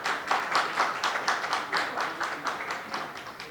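An audience at a movie press meet claps to welcome Posani Krishna Murali on stage, a steady patter of applause from a modest crowd at moderate volume with no talk.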